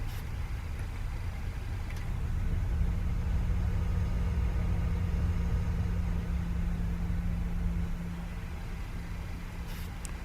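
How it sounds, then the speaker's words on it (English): A steady low rumble with airy noise comes from a Boeing 737 with speed brakes deployed on descent in Microsoft Flight Simulator, continuous and even throughout, with no talk. "We are riding the speed brake down."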